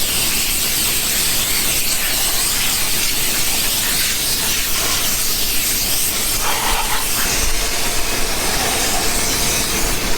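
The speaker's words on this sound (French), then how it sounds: "On va souffler le pot d'échappement." Compressed air hisses steadily through the exhaust pipe of a farm machine during a wheat harvest in France, a loud, continuous, unbroken blast that fills the whole stretch with no talking.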